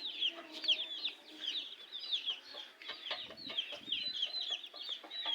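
A hen sitting on eggs clucks and murmurs softly nearby, a continuous run of low, throaty chatter with a few sharper notes.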